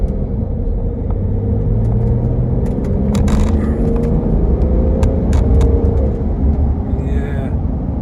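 A BMW X5 E70 35d diesel SUV with a repaired throttle body drives uphill, its low engine and road rumble steady throughout. A person talks over it, and a few faint clicks and rattles come from the cabin.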